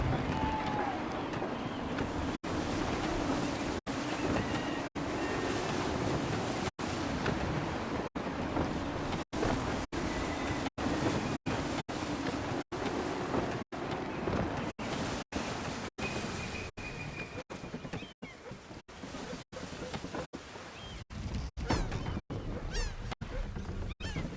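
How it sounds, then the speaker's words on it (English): Steady wind and rushing waves at sea surround a sailing ship in the Assassin's Creed 3 naval game, a continuous broadband wash with gusty swells, while voices speak faintly over it. "Gusty winds can be difficult to manage."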